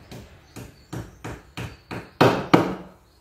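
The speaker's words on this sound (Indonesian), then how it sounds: "kita masukkan dengan palu" A hammer taps a plastic wall plug into a house wall about eight times in a steady rhythm, the last two blows harder and louder, close and without talk.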